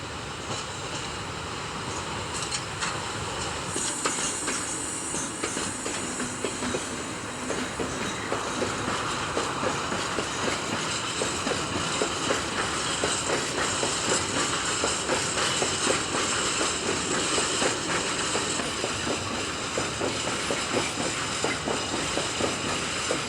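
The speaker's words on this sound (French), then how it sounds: "cette UM ramène une rame vide au faisceau d'échange de Gemont" A pair of French BB electric locomotives hauls an empty freight train of wagons. A steady, fairly loud rumble with rhythmic wheel clatter continues throughout, with no voices.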